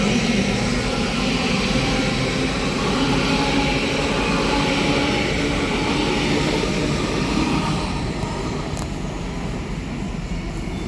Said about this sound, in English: I'm going to get bombed out by another Great Western Railway service